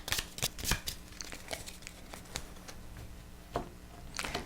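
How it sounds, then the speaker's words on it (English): A deck of cards for the board game Raxxon is shuffled close up, giving a dense run of riffling, flicking snaps and papery rustles with a few sharper bursts, and no voices. "these are going to get shuffled"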